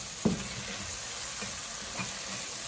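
Cut cabbage for masala noodles fries in a pan under a steady, close hiss, with a spoon knocking and stirring once or twice.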